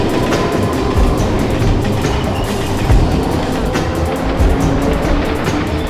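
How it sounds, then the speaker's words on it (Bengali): A through train rumbles steadily past a station platform at close range without stopping, wheels clattering rhythmically over the rails with a loud, continuous roar. "A through train passing from platform number 10."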